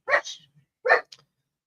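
A single dog gives two sharp, close barks about a second apart, each with a short yelping tail, in an otherwise quiet room.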